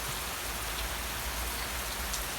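Heavy rain pours steadily onto surfaces behind a dormitory during flooding, a dense, continuous hiss with low rumble that stays loud and even throughout, with no voices.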